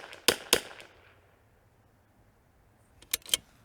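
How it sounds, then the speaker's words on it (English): .22LR rifle shots crack out nearby, two sharp reports close together at the start and two more at the end, separated by quiet fading tail and near silence. "We are wasting ammo shooting bugs"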